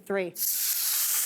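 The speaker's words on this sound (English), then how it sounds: "are you ready for a sizzle?" Flank steak hits a hot pan with a sudden loud sizzle that carries on as a bright steady hiss, right after a short spoken count.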